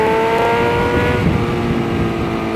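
A 2020 BMW S1000RR sport motorcycle fitted with a full Akrapovic exhaust revs loudly and steadily up close, its engine note holding strong without pause.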